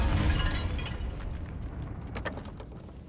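A Confringo fire-blast spell from Hogwarts Legacy bursts with a loud, low booming explosion up front that rumbles and decays over a few seconds, with faint mechanical clatter trailing, and no voices.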